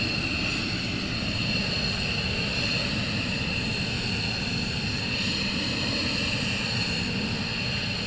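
A military jet taxis at RAF Lakenheath during morning surge operations, its engines giving a constant loud whine and roar that stays steady and unbroken throughout, with no voices.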